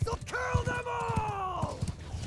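Several horses' hooves clip-clop in a quick uneven rhythm in a video game, with a drawn-out horse whinny rising over them and a voice talking underneath.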